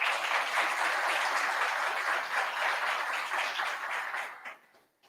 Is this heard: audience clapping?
yes